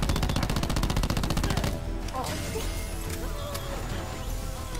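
Rapid automatic gunfire in the video game Call of Duty Black Ops 4, a fast rhythmic burst of shots followed by scattered impacts and lighter firefight noise.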